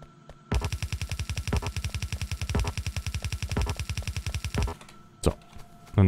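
Automated gun turrets in the game Factorio fire a loud, rapid burst of machine-gun shots for about four seconds, a steady rattling rhythm, followed by a few isolated louder shots.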